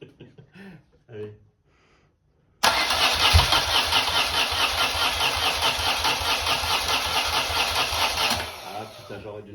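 A BMW R80 R motorcycle engine, brought back from rust, catches on the starter and bursts into a loud, steady idle after a few seconds of quiet voices, running with a fast, even beat before easing off near the end.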